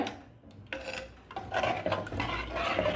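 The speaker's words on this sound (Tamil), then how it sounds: "நல்லா கலந்து விடுங்க" A spoon scrapes and stirs fish curry around a pot, with soft rubbing swishes and light metallic clinks, close by and irregular.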